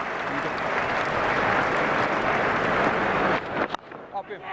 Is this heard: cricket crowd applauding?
yes